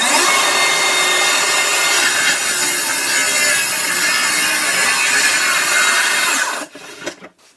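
A Festool HK55 carpentry saw rips through wood at a 45-degree bevel, a loud, steady high-pitched cutting whine lasting about six seconds before the blade breaks free and winds down to quiet.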